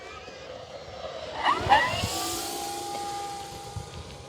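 An E-flite Carbon Z T-28 radio-controlled model airplane flies past with a whining motor that rises and sweeps in pitch around the middle, then drones on steadily at moderate distance.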